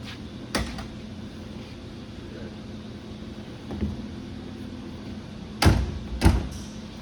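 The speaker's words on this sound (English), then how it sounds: "It shuts nice and easy." A few sharp thuds of a car door shutting, one early and two close together near the end, over a low background hum.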